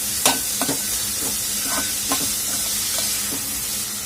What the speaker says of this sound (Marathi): दोडका घालून घेणार आहोत जे बारीक चिरलेला होता तो. आणि छान याला परतून घ्यायचं आहे.